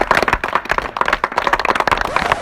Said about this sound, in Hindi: तालियां, सरपंच साहब के लिए तालियां।